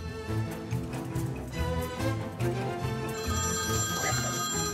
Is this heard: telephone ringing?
yes